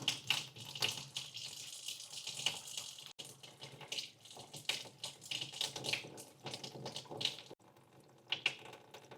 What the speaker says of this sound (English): just go ahead and drain that water out